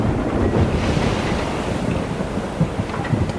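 Typhoon wind roaring over heavy ocean surf around a ship at sea, a loud continuous broadband rush with surging wave crashes and buffeting gusts throughout, no voices.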